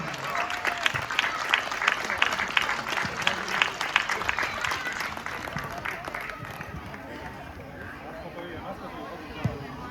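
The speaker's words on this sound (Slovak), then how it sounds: "Ešte raz obrovský potlesk pre trénerov, pre hráčov, pre rodičov" An audience at a youth football tournament's awards ceremony applauds, rapid scattered clapping at moderate distance that gradually thins and fades, with crowd murmur and an announcer's voice underneath.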